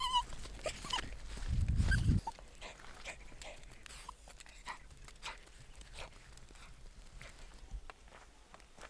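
A dog out on a desert walk gives a brief, fairly close whimper near the start, followed by faint scattered footsteps and crunching over rocky ground.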